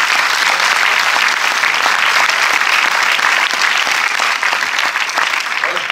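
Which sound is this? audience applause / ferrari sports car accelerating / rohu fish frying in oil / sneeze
audience applause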